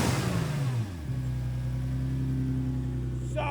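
A modified Nissan GTR running on E85 fuel settles from a falling rev into a steady, rumbling idle close by, with a faint brief noise near the end.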